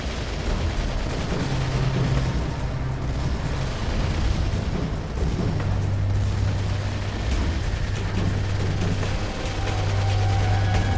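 Dense, continuous rumble of anti-aircraft fire from Skink air-defense vehicles and a base in the war strategy game Desert Order, a steady barrage of overlapping bursts and booms with low drones underneath, loud throughout.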